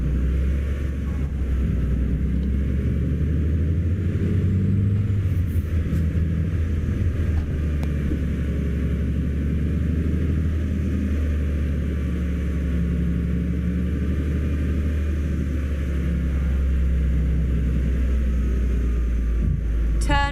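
A heavy truck engine in Euro Truck Simulator 2, on a Swedish east coast drive, hums as a steady, loud low rumble for twenty seconds with little change in pitch.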